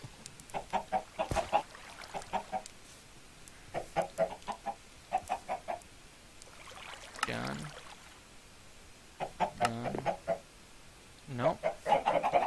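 Penned chickens in a blocky survival game cluck in repeated short clusters, steady and close, while someone talks in between bursts.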